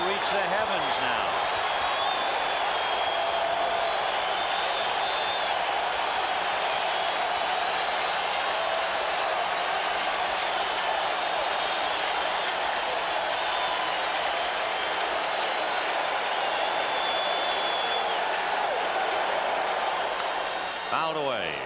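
A packed stadium crowd at Game 7 of the 1986 World Series roars continuously and loudly, a dense sustained wall of cheering with a faint announcer voice beneath.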